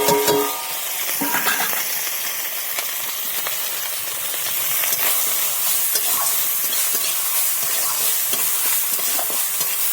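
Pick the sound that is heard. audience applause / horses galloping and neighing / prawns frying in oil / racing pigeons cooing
prawns frying in oil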